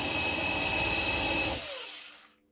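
A power drill with a countersink bit works a pre-drilled hole in wood while a toy doll's wardrobe is being built, a steady close whirring grind for about one and a half seconds that then winds down and fades.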